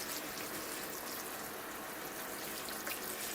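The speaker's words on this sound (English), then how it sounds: "Yeah, let me give it a watering." Water streams steadily from a watering can onto a bonsai landscape planting set among rocks, a close, even hiss of splashing and trickling with no pauses or voices.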